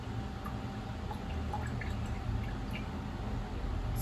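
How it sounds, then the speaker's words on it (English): Queen of the night flower essence poured gently little by little, soft trickling and scattered drips of liquid close by in a quiet room. "pouring little by little."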